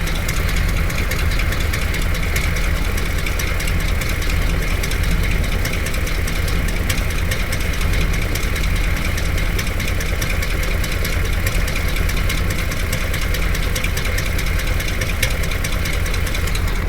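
A 1986 M1008 CUCV diesel truck idles close up, its engine running loud and steady with an even, low knocking clatter throughout, with no voices.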